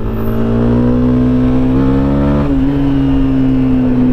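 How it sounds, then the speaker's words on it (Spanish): A Honda CB 250 Twister motorcycle engine revs up loud and close, its pitch climbing steadily, dipping briefly, then holding a strong sustained drone throughout. "acelera, frena."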